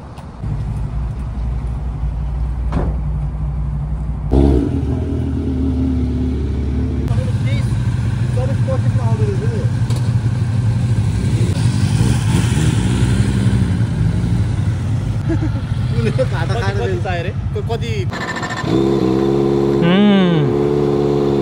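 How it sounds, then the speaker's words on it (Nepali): A Yamaha R1 sportbike engine drones and revs nearby with a deep, throbbing note that climbs near the end, while people talk over it and other traffic noise mixes in. "रेप हान्दाखेरि राम्रो साउन्ड आउँदो रहेछ यो चाहिँ"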